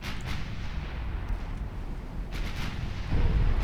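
Torpedoes striking a warship in Ultimate Admiral Dreadnoughts, a deep, rumbling roar of explosions with muffled booms rolling together and a heavier low thud swelling at the end.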